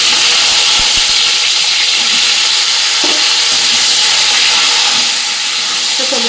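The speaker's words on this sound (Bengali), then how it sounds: "এবার এই তেলের মধ্যে সিমগুলোকে ভেজে নেবো" Whole broad beans frying in hot oil make a loud, continuous sizzle and hiss, with a few soft stirring knocks and no speech.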